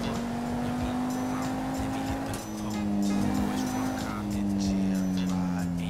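A car in the video game GTA 5 drives with a steady engine hum and rising tonal whine, tires squealing and skidding, while people talk over it.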